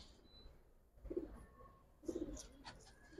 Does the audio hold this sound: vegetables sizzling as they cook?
no